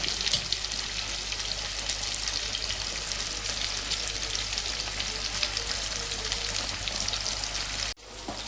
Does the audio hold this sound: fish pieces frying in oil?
yes